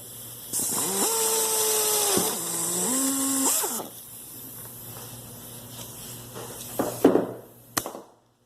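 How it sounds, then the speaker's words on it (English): A power drill whines up and shifts pitch as it bites through a metal bushing for a few seconds, then stops; clanks and a sharp click follow. "you're drilling through that bushing"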